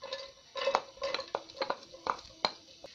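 Onions stirred in hot oil in a pan, with repeated scraping and clinking of a spoon against the metal pan at a steady, uneven rhythm, close and moderately quiet.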